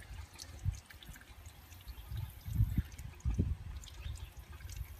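A processed duck is lowered into a vat of hot duck wax, giving soft liquid sloshing and dripping sounds with a few low splashy surges, close by and fairly quiet.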